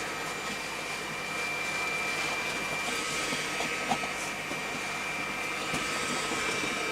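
An air blower fitted to a Polish hazmat suit (OOB-1) runs with a steady, close, vacuum-cleaner-like whoosh that holds constant throughout with no talking.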